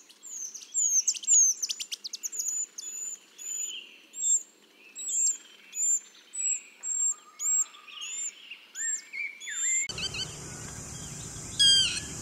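Several wild birds call in an open field, a mix of sharp chirps, tweets and repeated whistled notes, fairly close and clear with quiet gaps between; near the end a broad burst of handling noise covers them.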